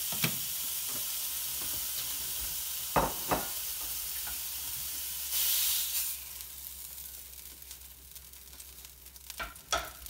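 A sous vide mock tender steak sears in a hot pan, a steady close sizzle with occasional louder pops and a brief burst of hissing partway through.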